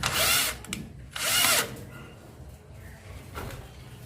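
A cordless power drill drives a screw into a wooden doorjamb during installation, with two loud close whirring bursts near the start and a brief fainter whir later amid quiet workshop background.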